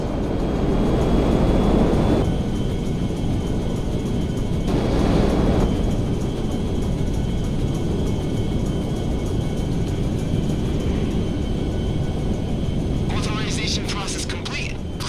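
Airplane engine in the GTA 5 video game, a loud continuous roar that swells in bursts and holds steady throughout, with a voice briefly speaking near the end.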